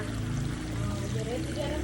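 Water pours steadily onto newly sown onion, green chili and eggplant seedlings in sandy soil, a continuous close splashing stream with no pauses.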